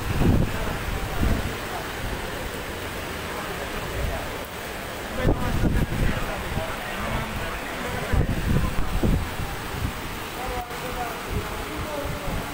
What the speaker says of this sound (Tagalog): Ayun na nga, ang lakas ng hangin.